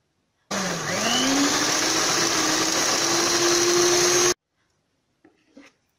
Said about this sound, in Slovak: 300 ml smotany na šľahanie vyšľaháme do tuha